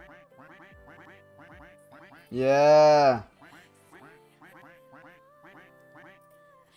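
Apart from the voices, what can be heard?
ducks quacking in Roblox Duck Army video game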